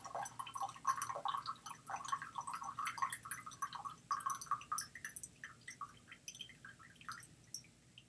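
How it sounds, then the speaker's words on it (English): Tea trickles out of a gaiwan whose lid is held with only a slight crack, giving a faint, irregular dripping and splashing that carries on for several seconds in a quiet room. "when you pour the gaiwan like this with it just with the slight crack, it does take a little bit longer for it to pour"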